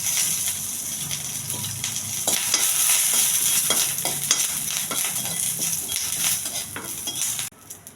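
Curry leaves, cumin and dried red chilies fry in hot oil as a tempering, making a loud, steady crackling sizzle broken by spoon scrapes and clinks, which cuts off abruptly near the end.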